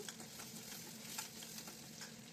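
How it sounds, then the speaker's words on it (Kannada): Mustard seeds, onion and curry leaves fry in hot oil, giving a steady close sizzle with light crackles and stirring throughout, no voices. "ಸಾಸಿವೆ ಈರುಳ್ಳಿ ಕರ್ಬೇವಿನ ಸೊಪ್ಪು ಹಾಕಿ ಫ್ರೈ ಮಾಡೋಣ"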